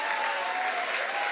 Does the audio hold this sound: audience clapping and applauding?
yes